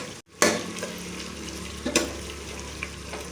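A spoon stirs cumin, coriander and garam masala into a simmering pot for desi chicken shorba, with soft sizzling, a brief clatter at the start and another scrape partway through, close and fairly quiet, no voices.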